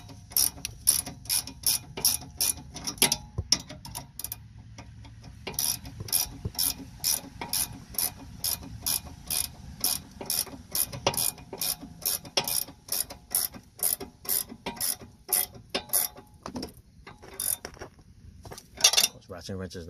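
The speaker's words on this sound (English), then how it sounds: "ratchet wrench is not good for tightening up." A ratchet wrench turning on a 2013 Honda Civic front sway bar link clicks in fast, even runs of sharp ticks, pausing briefly between strokes, close and distinct.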